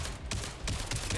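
Gunfire in a PVE shooter video game cracks out in rapid, loud, close bursts that blur into a dense continuous rattle over a short stretch.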